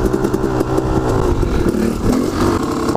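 A motorcycle pulling a wheelie in second gear with a slight slip of the clutch, its engine loud, close and revving hard, a continuous throaty roar for the whole stretch.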